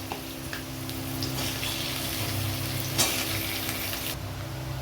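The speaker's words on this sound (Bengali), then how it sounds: "আলুটাকে ভেজে নেব হালকা।" Potato pieces frying lightly in oil in a wok, a close, even sizzling crackle that holds steady throughout with a faint tick partway through.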